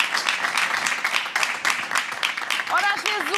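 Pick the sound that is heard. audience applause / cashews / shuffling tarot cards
audience applause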